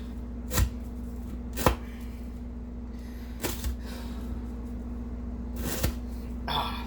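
A Chris Reeve Umnumzaan knife with an S35VN steel blade saws and chops through fibrous rope in four distinct cuts, each a short crunchy burst over a steady electrical hum.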